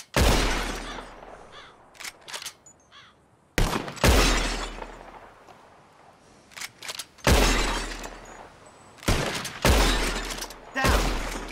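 Sharp gunshots ring out during a shooting contest in Red Dead Redemption, loud close cracks in irregular clusters, some fired in rapid pairs and others after longer pauses, each with a crisp ringing tail.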